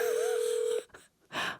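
A phone held near a microphone gives a steady single tone for under a second, then goes quiet, followed by a short burst of broadband noise.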